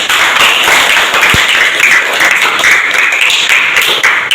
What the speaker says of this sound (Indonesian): Tepuk tangan dulu untuk Mbak Uji